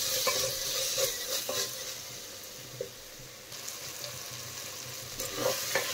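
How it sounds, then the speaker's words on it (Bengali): Softened tomatoes and spices sizzle quietly in a pan as a spoon stirs them, with a few scraping strokes standing out against the steady low frying hiss, close by and without talk. "ঢাকনা উঠিয়ে এখন একটু নেড়ে দিচ্ছি।"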